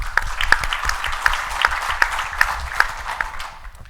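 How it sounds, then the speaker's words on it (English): Audience applause for a speaker on a business panel about the economic climate, a moderate crowd clapping steadily with a few sharper claps and a faint whistle, fading out toward the end. "Let's give Shahara a round of applause."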